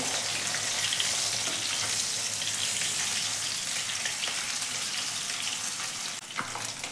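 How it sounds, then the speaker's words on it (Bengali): Rohu fish pieces fry in hot oil while being turned, giving a steady, close, loud sizzle that runs throughout with a few faint scraping knocks near the end and no talking. "দুবার তিনবার উল্টে উল্টে ভালো করে মাছগুলোকে ভেজে নিতে হবে"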